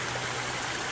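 Creek water rushes steadily along a trail in a close, continuous broadband wash with no voices over it.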